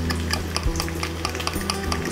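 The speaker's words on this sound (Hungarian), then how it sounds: "És ezt is ügyesen összekeverem." A spoon or whisk stirs a spoonful of flour into a thin egg batter for an omelette, giving regular rhythmic clicking taps against the bowl over a steady low hum, with bacon frying in the background.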